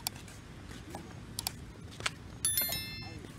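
A short bright bell-like ding chimes over quiet outdoor background noise, ringing out and fading after a few soft clicks and rustles.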